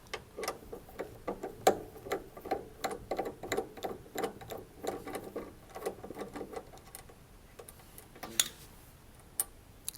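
Ratchet or spanner clicking rapidly as the middle bolt of an LG washing machine heating element is unscrewed, a faint close series of ticks that pauses briefly near the end.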